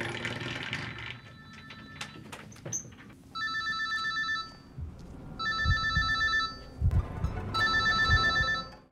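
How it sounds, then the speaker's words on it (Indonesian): A mobile phone rings unanswered in a tense horror film scene, three repeated electronic ringtone bursts, fairly loud, over low rumbling ambience and scattered thuds, with no talk. "Kemudian ia kembali menghubungi HP John yang dari tadi tidak diangkat-angkat"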